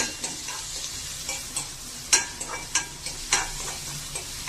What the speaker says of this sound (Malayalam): ക്യാരറ്റ് കൊത്തി അരിഞ്ഞ് ഇടുകയാണ് ക്യാരറ്റ് ഞാനൊന്ന് തിണ്ടി